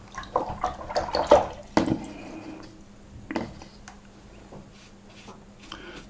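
A watercolour brush wets paper with clean water for a painted foreground: soft intermittent dabs, swishes and splashy strokes, close and fairly quiet, with no one talking.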